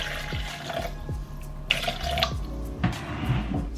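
Water poured from a container into a blender holding a carrot-based vegan sauce to thin it, a close, splashy trickle with a few thumps and clinks along the way, no speech.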